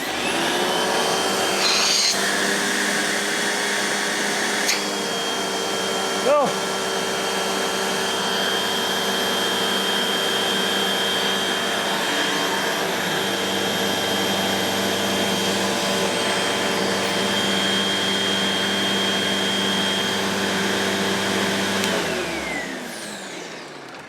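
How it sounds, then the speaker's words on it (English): A Royal 7300 Protege upright vacuum cleaner runs loud and steady with a constant motor whine for the whole stretch, and a single short word is spoken near the start. "let's just do a working vacuum test"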